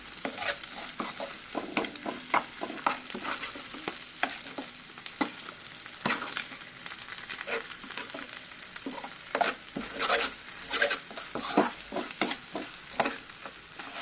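Egg frying in a pan with steady sizzling and a spatula scraping and stirring in irregular bursts, close and moderately loud, with no voices.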